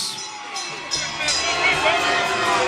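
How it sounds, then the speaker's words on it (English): A boxing crowd reacts to a unanimous decision with a loud, sustained mix of cheers, shouts and murmurs that swell slightly over a few seconds. "Some mixed reaction in this crowd"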